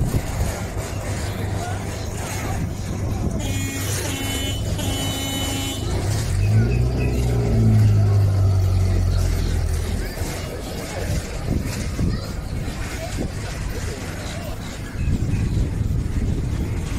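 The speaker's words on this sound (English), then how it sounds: "An amphi car." An Amphicar amphibious car's engine rumbles close by under people talking, with a brief honk-like toot and a swell in the middle as the motor grows louder before easing back.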